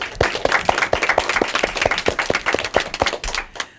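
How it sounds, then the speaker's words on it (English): An audience claps in applause at the close of an elementary school quiz match, a steady run of close, distinct handclaps that fades out after a few seconds. "So let's all have a big round of applause."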